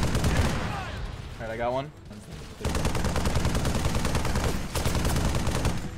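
Rapid turret fire in the Halo CE video game, loud and continuous bursts that cut out briefly while someone speaks, then resume as a sustained stream.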